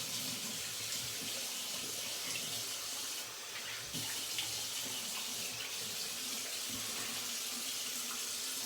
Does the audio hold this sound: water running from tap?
yes